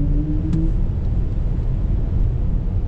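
A BMW iX electric car accelerating in sport mode, giving a steady low rumble of road and motor noise with a faint synthetic tone rising briefly at the start, continuous and close throughout.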